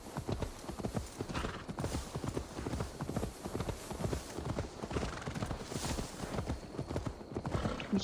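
A horse's hooves clip-clop in a steady, quick rhythm as it is ridden in Assassin's Creed Valhalla, the even clopping continuous throughout at moderate volume, with faint background ambience.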